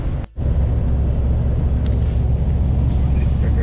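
A car cruises along a snowy highway, the Novaya Ryazanka toll road, with a loud, steady road and engine rumble from inside the cabin after a brief dip at the start.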